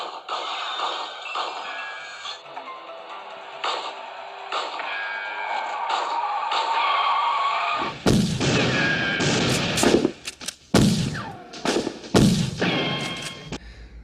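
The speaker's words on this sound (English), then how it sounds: "It's like it's the stock sound effect for gunshot with the ricochet" Sharp stock-effect gunshots, several in quick succession, each ending in a whining ricochet, loud and punchy after a stretch of quieter tonal sound.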